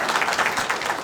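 An audience at a history center talk breaks into warm, dense applause, many hands clapping steadily and fairly loud for the full stretch.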